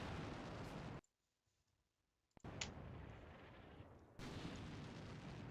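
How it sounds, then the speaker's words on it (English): Heavy artillery in the Combat Mission Professional war game, loud rumbling barrages that cut out into near silence, then return with a sharp crack and a sustained roar of shelling, growing heavier toward the end. "More heavy artillery dropping here."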